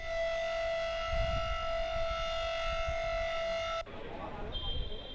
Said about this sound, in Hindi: आईटीओ के पास पीडब्ल्यूडी बिल्डिंग में सायरन बजवाया गया